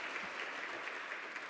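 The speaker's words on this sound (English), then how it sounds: "So give yourselves a round of applause and thank you." An audience claps at an awards luncheon, a continuous, even wash of applause from many hands at moderate distance, holding steady throughout.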